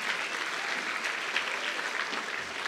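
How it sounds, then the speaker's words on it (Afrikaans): Crowd at a jacket ceremony claps for a class group leaving the stage, a steady, close burst of applause with murmured voices underneath. "kom ons klap vir die 8 G's, lekker hande"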